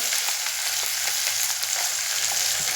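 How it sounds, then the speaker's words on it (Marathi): Cumin, curry leaves, peanuts and green chilli frying together in a pan for kande pohe, a steady close sizzle and crackle of hot oil with no talking. "भाजतंय ना सगळं मिक्स होतंय."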